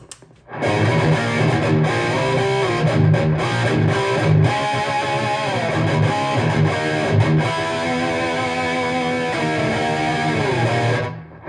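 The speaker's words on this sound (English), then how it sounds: "Listen to the attack you're getting with this distortion channel engaged and the boost feature on." Heavily distorted electric guitar through an EVH 5150 amp with the distortion channel and boost engaged, a loud, aggressive riff with sharp picked attacks and short stops, sustained for about ten seconds before stopping.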